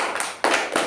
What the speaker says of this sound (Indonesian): Oke, applause please.